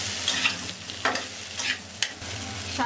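Potatoes and tomato being stirred as they fry in a pan for a fish-head aloo dum, with a steady close sizzle and periodic scraping stir strokes roughly every half second.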